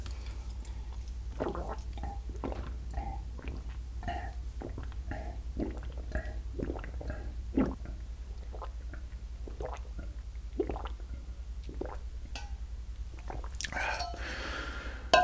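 Close, wet chewing and biting on a spicy Thai-style salad of blood cockles with sliced lemongrass and chillies, soft squishy bites repeating in an irregular rhythm over a low steady hum, with a brief louder rustle near the end.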